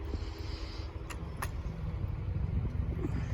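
A Tamiya Striker radio-controlled car drives gently around an outdoor BMX track, a steady low motor drone and rumble with a couple of brief sharp clicks partway through.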